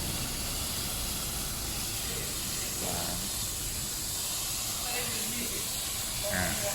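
A water spray jet blasting packed dirt and mud out of a Nissan Almera's air-conditioning parts, a steady loud hiss that runs throughout, with a voice talking over it.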